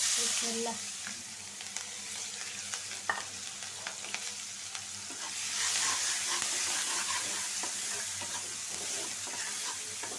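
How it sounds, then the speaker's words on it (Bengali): Onion and green chili frying in oil in a wok, a loud continuous sizzle and hiss with stirring scrapes, swelling louder midway. "এই তেলে দিয়ে দিব পেঁয়াজ"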